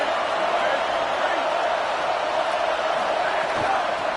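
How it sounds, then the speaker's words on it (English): Steady, loud roar of a football stadium crowd cheering to back their defense at a BYU versus Washington game, a dense wall of noise holding evenly throughout with no distinct voices standing out. "Listen to this crowd just shaking the girders of this place,"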